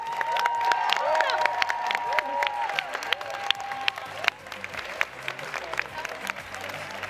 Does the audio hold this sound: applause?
yes